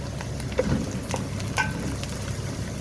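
Garlic sizzles softly in a pan with a continuous light crackle, broken by a few small clicks and scrapes from stirring.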